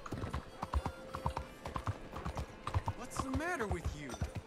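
Hooves clip-clop at a steady pace from a horse ridden through the city of Saint Denis in Red Dead Redemption 2, with murmured voices and a short rising tonal sound over the beat.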